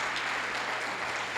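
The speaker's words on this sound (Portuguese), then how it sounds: "E agora eu quero uma grande salva de palmas para o nome do Senhor Jesus." Dense, steady applause from a church congregation at a family worship service, a continuous wash of many hands clapping, loud and even throughout.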